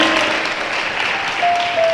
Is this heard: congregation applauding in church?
yes